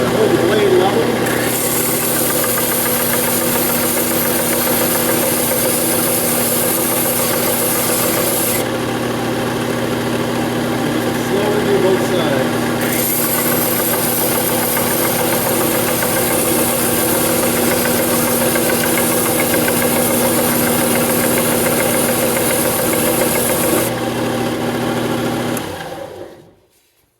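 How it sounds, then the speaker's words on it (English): A grinder or sander shapes a railroad-spike tomahawk in a steady, droning motor whine with a grinding hiss that runs for nearly half a minute before cutting off. "I think the right way to do this is just freehand it on the grinder or the sander"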